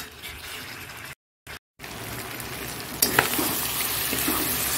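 Chicken curry sautés in oil in a pan with a loud, continuous sizzle and the scrape of stirring, briefly interrupted by two short gaps, then frying again even more strongly.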